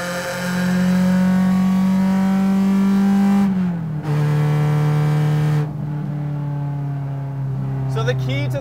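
A Pandem widebody Honda Civic hatchback with a VTEC engine accelerates with a loud, steady harmonic drone, dips briefly at a gear change, then pulls on at a lower pitch, ending in a short burst of noise.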